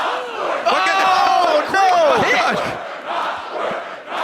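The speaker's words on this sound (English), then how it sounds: "The crowd is chanting back." Crowd at a 2015 URFitational Grand Finals game chanting back loudly in sustained rhythmic waves of many voices, with a brief dip midway and steady massed shouting throughout.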